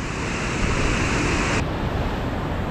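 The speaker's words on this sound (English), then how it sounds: "Got a little soaked from that last wave" Ocean surf washing in on the California coastline, a close, steady roar of breaking water and spray that shifts in tone partway through, with no voices.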